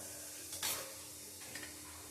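Black cumin (nigella seeds) goes into a hot pan and sets off a soft, low sizzle with a couple of brief bursts of crackle, faint and close.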